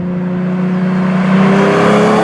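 A Lamborghini Diablo engine drones steadily from inside the cabin while driving, a loud, even hum with a slight rise in pitch toward the end.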